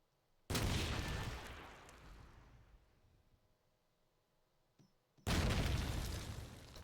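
Two heavy grenade blasts in Call of Duty 2 erupt about five seconds apart, each a loud broadband boom with a long rumbling decay, separated by a faint click; no voices.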